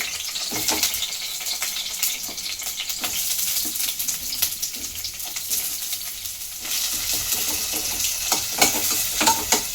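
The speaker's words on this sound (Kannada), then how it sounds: "ಈರುಳ್ಳಿ ಕೆಂಪಗಾಗೋ ತನಕ ಸ್ವಲ್ಪ ಲೈಟಾಗಿ ಫ್ರೈ ಮಾಡ್ಕೊಳ್ಳೋಣ" Sliced onion fries lightly in a pan of oil with chillies, giving a continuous bubbling sizzle with scattered stirring scrapes that grows louder and denser in the latter part.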